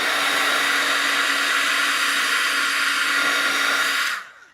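A hair dryer blows steadily and loudly up close while drying painted mail art, a constant whirring hum that cuts off abruptly at the end.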